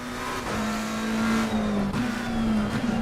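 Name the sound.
McLaren race car sliding through corners, from Assetto Corsa Competizione video game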